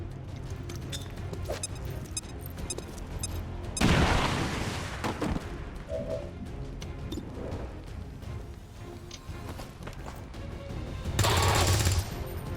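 A grenade explosion and gunfire in the video game XCOM 2, with dense crackling game noise, a loud burst of blast, and another heavy boom toward the end, with a voice briefly heard.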